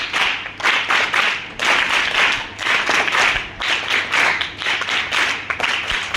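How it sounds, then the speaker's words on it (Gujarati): A crowd at a residential school's child-protection event claps to welcome a guest: steady, close applause in uneven waves that rises and dips over several seconds. "તાળીઓથી આપણે સ્વાગત કરીએ."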